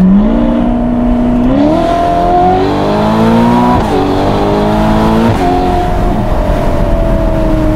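A Ferrari cruiser's engine pulls hard through the gears, loud and close from the cabin, rising in pitch with each stretch and dropping briefly at every shift, then holding a steady drone.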